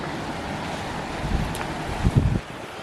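Ocean waves at Paradise Beach, Gokarna, wash in with a steady roar under gusting wind buffeting the microphone, a surge swelling louder near the end before easing off.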